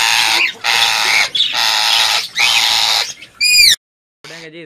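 A pet parrot squawks loudly as it is caught by hand, a run of harsh, grating screeches in close succession ending in a few sharper cries, near and dominant.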